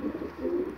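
A racing pigeon in a loft gives a brief, soft, throaty coo, close by and alone against a quiet background.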